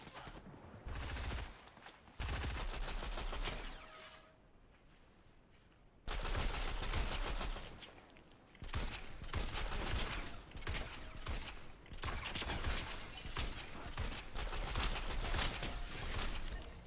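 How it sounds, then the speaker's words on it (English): Pistol gunfire in a shooting video game rings out as sharp, loud shots, some single and some in rapid clusters, separated by brief quiet gaps. "this pistol has a lot of recoil"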